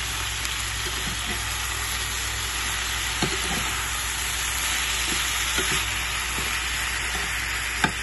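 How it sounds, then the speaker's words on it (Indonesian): Sambal ingredients fry in a pan with a steady, loud, close sizzle, broken by occasional soft clicks and knocks of stirring, with no voices. "ini bahan-bahan sambelnya, langsung aja tak goreng"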